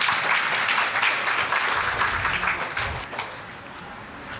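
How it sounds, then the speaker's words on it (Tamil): An audience at a public gathering claps hands in a loud, dense round of applause that holds steady, then thins and fades toward the end. "சொன்ன உடனே கைத்தட்டணும்."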